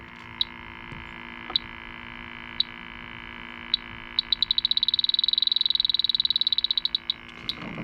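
Electronic refrigerant leak detector sounding off near an aluminum coil: a series of sharp beeps that speed up into a rapid ticking burst, then slow again, loud and close over a steady background hum.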